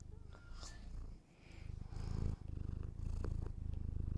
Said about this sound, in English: That's the sound of Miku purring.